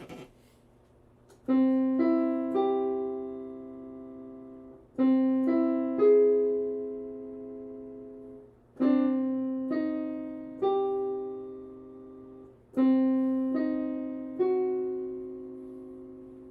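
Four piano chords, major, minor, diminished and augmented triads, sound in turn, each struck as separate notes before ringing together and fading, with short pauses between groups.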